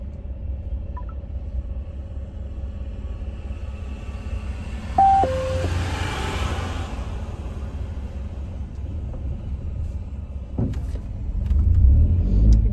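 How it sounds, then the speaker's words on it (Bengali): A car engine runs with a steady low rumble while the car is turned on a slope during a road trip from Kolkata to Arunachal Pradesh, close and constant, with a slight surge toward the end. "ওই তো ঘুরিয়ে নিচ্ছে আমি গাড়িটা।"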